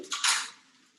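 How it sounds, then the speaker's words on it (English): A spoon stirs cinnamon into overnight oats in a small container, two quick scraping clinks close by followed by a fading soft scrape, short and quiet with no talk. "sprinkle and then mix it in"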